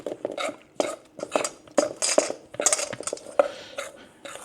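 Keto sausage roll mixture of sausage, butter powder, egg and seasonings stirred in a bowl, with repeated close clinks and scrapes of a utensil against the dish in an uneven rhythm.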